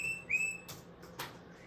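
A bird call played back from a bird identification app, a short clear whistled note with a rising sweep followed by a few quick chirpy bursts, heard alone and fairly quiet.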